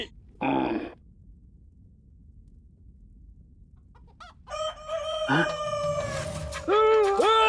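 A hen clucks in a few short bursts, near and fairly loud, over a quiet background, with a rooster-like call and a high vocal squawk toward the end.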